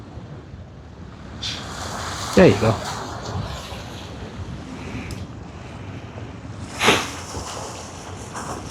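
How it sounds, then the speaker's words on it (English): Ocean waves heard from the deck of a cruise ship leaving New York City, a soft wash under steady wind buffeting the microphone, with two louder gusts and someone speaking briefly. "Oh, now we're getting waves. Let me give you the waves again, because they're sounding nice."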